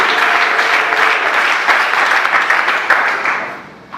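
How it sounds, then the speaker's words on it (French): A church congregation bursts into sustained applause, a dense wash of many hands clapping together, loud and close, holding steady before tapering off near the end. "Est-ce qu'on peut acclamer la parole de Dieu?"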